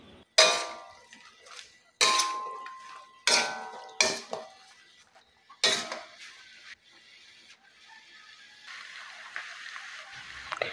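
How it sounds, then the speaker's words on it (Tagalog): Utensil scraping and clanking in a pan while chop suey with cabbage is stirred, a few loud bursts of metallic clatter separated by quieter sizzling, no talking. "haluin lang natin ito ng mabuti"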